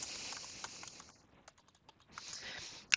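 Keys clatter on a computer keyboard in quick, light bursts, with a pause in the middle before the rapid typing resumes, quiet and close, ending with a single sharper click.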